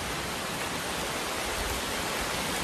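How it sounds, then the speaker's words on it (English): Rain begins pouring heavily outdoors, a dense, steady hiss of downpour that fills the whole moment with no pauses or voices. "now it's going to start pouring the rain on me"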